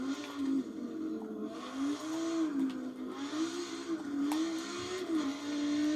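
An Audi race car in the Forza racing video game drives with a steady engine drone whose pitch rises and dips through gear changes and throttle shifts, heard continuously and fairly close with no talking.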